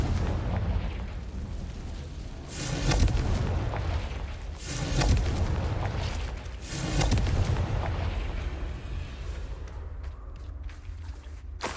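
Hogwarts Legacy's Confringo blasting curse lands as repeated heavy booming explosions, roughly every two seconds. Each is a loud, broad burst that rumbles off into a dense roar, and no voices come through.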